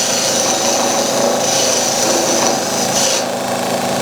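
Hard timber spinning on a wood lathe as a slightly rounded skew chisel cuts it down to diameter, making a steady, close, continuous rasping scrape with a faint motor hum and no talk.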